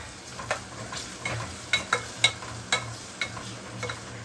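Tomatoes and onions being stirred into vasetti bhaji in a pan, with a low steady sizzle and a string of light spoon scrapes and taps, some sharp, spaced irregularly across a quiet background.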